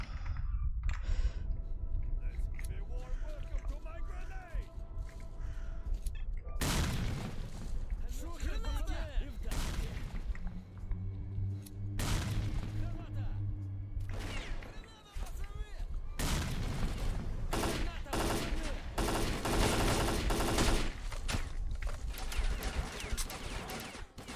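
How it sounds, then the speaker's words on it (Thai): Explosions and bursts of gunfire in the shooter S.T.A.L.K.E.R.: Clear Sky erupt in loud, broadband blasts and clusters of shots, separated by quieter stretches with clicking and occasional voice. "โอ้ยระเบิด"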